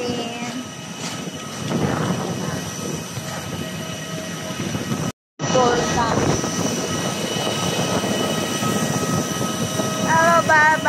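A steady airplane engine roar fills the scene, with people chatting faintly beneath it and a brief dropout in the middle.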